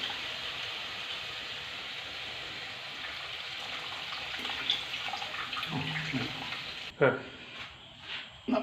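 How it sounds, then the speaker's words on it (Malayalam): Tamarind water poured into a simmering anchovy fish curry with softened tomatoes gives a steady hissing sizzle for about seven seconds. It then cuts off, leaving a few brief clinks and stirring sounds. "നമുക്ക് പുളി ഒഴിക്കാം"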